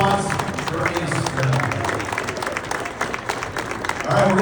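Crowd applause at a ribbon cutting for the opening of a pickleball club, dense steady clapping from a gathered audience throughout, with some voices mixed in underneath.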